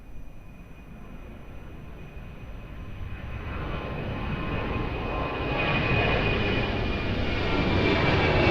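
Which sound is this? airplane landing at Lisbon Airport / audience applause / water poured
airplane landing at Lisbon Airport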